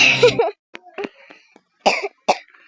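A person coughs sharply several times up close while playing a running game, with short breathy gaps between the coughs.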